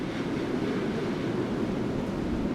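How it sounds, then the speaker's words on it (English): Strong wind roaring through trees, a dense, steady, low rumbling roar with no breaks, loud and close. "So strong it roared through the trees like a steam train, shaking the very ground we stood on."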